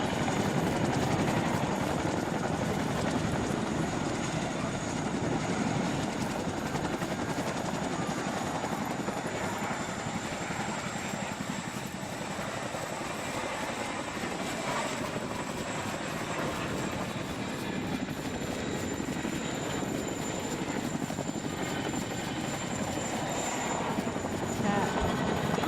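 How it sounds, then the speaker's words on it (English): A military helicopter in the video game ArmA 2 roars steadily and loudly for the whole stretch, a dense continuous engine and rotor noise with no voices. "Please board the chopper right"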